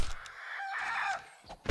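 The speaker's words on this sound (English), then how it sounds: "Stupid dirty birds. I hate dirty birds." Chickens cluck, and a rooster gives a loud, close, drawn-out crow lasting about a second, with brief clucks before and after.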